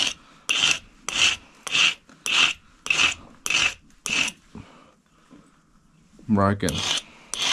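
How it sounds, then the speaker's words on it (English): A small steel flint-knapping flaker is sharpened with a file in eight even, rhythmic rasping strokes, close and clear, followed by a brief spoken phrase. "I need to sharpen this little steel flaker up."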